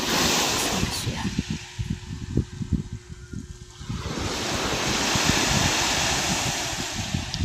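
Ocean waves wash onto Cabay Beach at sunrise, a broad rushing surf with gusty wind buffeting the microphone, rising and falling over several seconds; no clear birdsong stands out.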